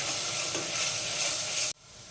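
Spice masala of chili and coriander-cumin powder being stirred in a hot pan for masala dosa, a dense close sizzle that stops abruptly near the end, with no talking.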